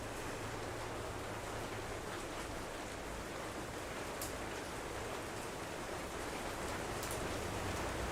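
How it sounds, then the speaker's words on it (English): Steady, dense rain pours down outdoors, a continuous even hiss of drops striking surfaces that stays constant throughout with no other sounds standing out. "There's a lot of rain just going down right now."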